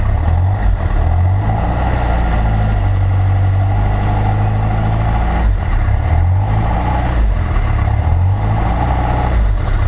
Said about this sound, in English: I don't know if you can hear that as well, but with the exhaust being basically hanging off this thing, just sounds nasty.